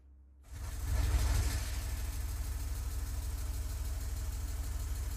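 A BMW car engine turns over and settles into a steady idle just after start-up, a constant low rumble with a slight vibrating edge that holds evenly throughout, close and alone without talk.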